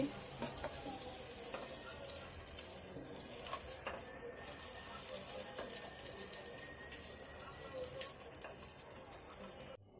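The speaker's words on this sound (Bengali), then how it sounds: "চিংড়িগুলো ফ্রাই করা হয়ে গেছে, দেখতে পাচ্ছেন।" Prawns frying in oil in a pan, a steady hiss and crackle of sizzling running through the whole stretch at moderate level, with scattered small pops and no talking.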